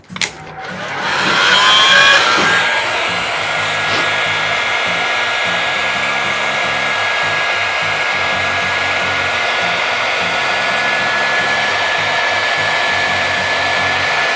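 A heat gun drying a skimmed plaster patch on a wall gives a loud, steady whirring blast of blown air. It starts with a brief rising surge and then holds an even, continuous roar with no talk.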